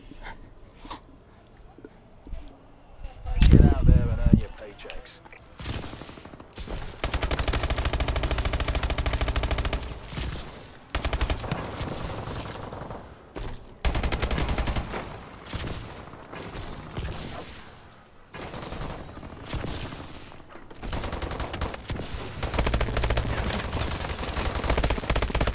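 Rapid gunfire bursts from a video game gun game mode, loud, dense automatic volleys repeating in long stretches with brief pauses, mixed with other game noise.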